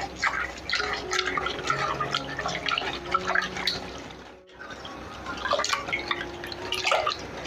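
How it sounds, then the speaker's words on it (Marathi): Five kinds of dal (moong, urad, chana, toor and masoor) washed in water: continuous splashing, dripping and trickling with scattered sharper drops, fairly quiet and close, with a short pause midway. "तर आता ह्या डाळी आपण धुवून घेऊयात स्वच्छ"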